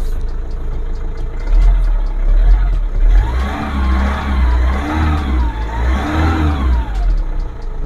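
A motorhome engine, just started after half a year of winter storage, runs loud and close, revving up and down in several swells over a steady idle rumble.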